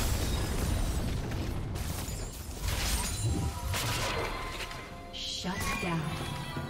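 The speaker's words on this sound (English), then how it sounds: "Team's turret has been destroyed." Turret being destroyed in League of Legends, a heavy crashing explosion with crumbling debris layered over busy game effects and an announcer voice, loud and dense.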